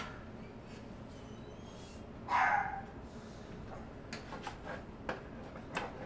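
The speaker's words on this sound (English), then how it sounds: "Don't mind the dog." A dog gives a single short bark at middle distance in a quiet room where mining rig cards are being assembled, followed by faint ticks and small clicks.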